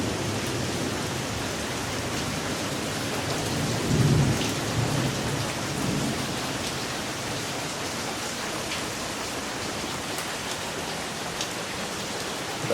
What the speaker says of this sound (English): this has been first rain since September 25th, 2024